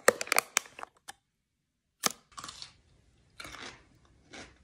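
Crunchy California garlic pickles chewed close to the mic: a fast burst of sharp crunches, a pause, then several slower bites and chews.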